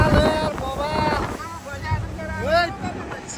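A boat heads out on the sea off the Korean coast, with wind rushing over the microphone and water noise underneath while several people chat loudly nearby.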